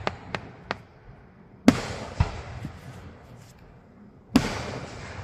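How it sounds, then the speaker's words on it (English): Fireworks going off at a night display: several sharp pops early, then a big boom near the middle, another crack, and a final loud blast, each ringing out with a short tail against quiet background. "Whoa, that was the biggest bomb."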